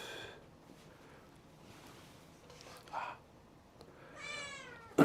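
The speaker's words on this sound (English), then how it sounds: "Little kitty cat came in." A little house cat meows a few times at a moderate distance, short scattered calls between quiet stretches, with a louder cry and a thump right at the end.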